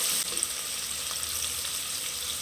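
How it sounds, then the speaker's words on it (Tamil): Onions sautéing in a pan for vegetable pulao, giving a steady, moderately loud hiss with faint crackles throughout, and no voices. "வெங்காயம் கொஞ்சம் லைட்டாக வதங்கணும்."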